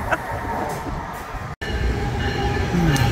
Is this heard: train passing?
yes